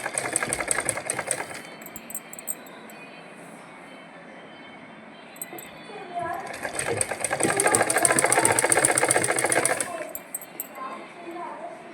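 A sewing machine stitches the button placket of a kurta in two bursts, a short run at the start and a louder, longer run in the middle, with quieter handling noise between them and no speech.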